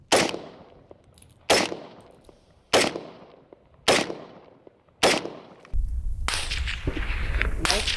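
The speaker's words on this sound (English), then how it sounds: "This round, as you can tell, was supersonic, and we heard the report after the crack." Five sharp unsuppressed 5.56 supersonic gunshots ring out at regular intervals, each a loud crack followed by a decaying report, then sustained broadband noise like wind or nearby shuffling fills the last seconds.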